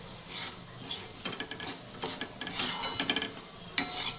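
Gram flour dry-roasting over a low flame, stirred constantly in the pan: repeated bursts of scraping and light metallic clatter in an irregular rhythm, close and moderately loud.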